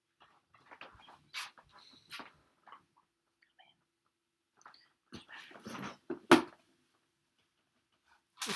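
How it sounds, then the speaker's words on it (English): A dog barks and whines in short, scattered bursts, with long pauses between them and a louder yelp near the end, heard close in a quiet room. "You need to stop barking"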